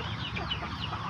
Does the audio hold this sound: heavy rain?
no